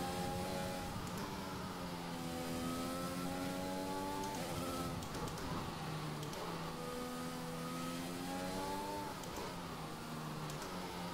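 A Formula 1 car engine in the F1 2021 racing game, revving hard through a series of downshifts, its pitch repeatedly climbing and dropping in a loud, steady, close-up whine.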